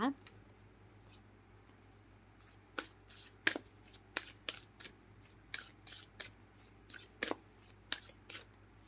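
A deck of oracle cards is shuffled by hand. The crisp riffling bursts come close and clear in an irregular series, separated by short quiet gaps.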